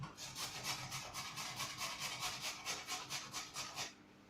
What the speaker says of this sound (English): Right, so let's grate this.